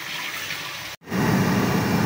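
Water pouring and splashing into a cooking pot for beef paya, a steady rushing gush, loud and close, briefly cutting out and then resuming fuller.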